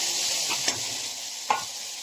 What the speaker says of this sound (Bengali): দেখো মশলাটাকে ভালো করে ভেজে নিয়েছি।